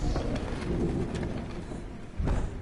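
Soft cooing of birds in the video game Hellblade: Senua's Sacrifice over a low, steady background rumble, a few brief calls rising now and then.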